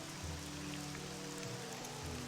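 Steady rain hisses evenly in the video game Morrowind, with a low continuous hum beneath it. There are no distinct drops or pauses.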